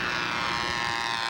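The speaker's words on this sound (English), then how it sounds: "Love those twin engine planes." A twin-engine control-line model B-25 bomber, flown on a three-line system, drones steadily at close range with a continuous, loud buzzing engine tone and no break.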